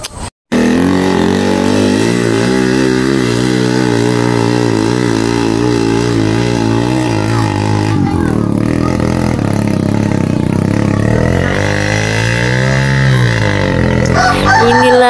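Motorcycles climbing a steep, slippery 45-degree cliff road, engines revving loudly and continuously with rising and falling pitch, close by, with scraping and clattering under the strain.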